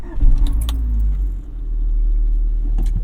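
A 1988 Honda CRX Si is started: keys jangle near the ignition, then the engine cranks and catches into a steady low idle rumble, with a second brief key rattle near the end.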